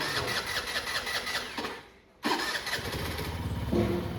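A vehicle engine on a cold winter day, needing the choke, cranks and catches, runs roughly, cuts out briefly, then restarts and settles into an uneven mid-pitched idle, loud and close.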